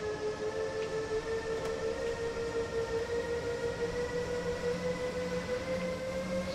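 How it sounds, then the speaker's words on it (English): A train rolls past in Train Simulator 3 on the Main-Spessart-Bahn, a steady rumbling drone with sustained tonal hum, continuous and fairly close throughout with no talk. "I missed the train!"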